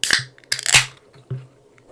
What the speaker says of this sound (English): let's get some can cracking ASMR up in this piece